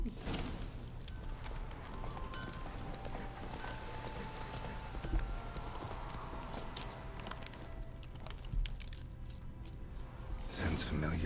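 Steady clip-clop of horse hooves trotting along at a moderate pace in The Witcher 3, with ambient game music and background sounds underneath throughout.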